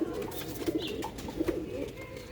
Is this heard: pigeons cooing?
yes